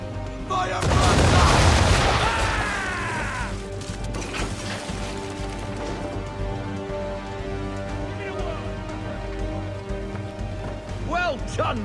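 Ship cannons firing in the video game Assassin's Creed III, a loud burst of booming blasts and crashing debris early on, then a rumbling, rain-like battle wash with scattered clatter beneath voices.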